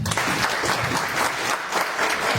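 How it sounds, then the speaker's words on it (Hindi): Steady, loud applause from a large audience at a motivational talk, a dense continuous roar of many hands clapping without a break. "हमारे सीओ सर के लिए जोरदार ताली होनी चाहिए।"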